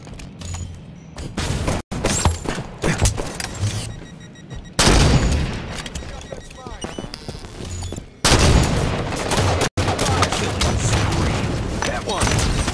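Sniper rifle and other gunfire in a Halo 5: Guardians multiplayer match, with loud repeated shots, bursts and explosions over dense game noise. Players' voices sit under the action.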